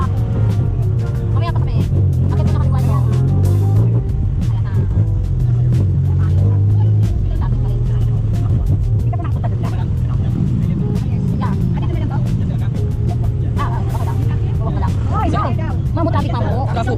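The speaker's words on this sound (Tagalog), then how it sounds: "Traffic." Bangkok city traffic near Siam Paragon, heard as a steady, loud low engine rumble from passing cars that continues throughout, with people talking over it.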